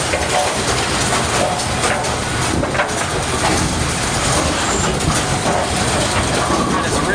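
Brunswick A/A2 mechanical bowling pinsetters run with a dense, continuous clatter of gears and mechanisms, loud and steady throughout.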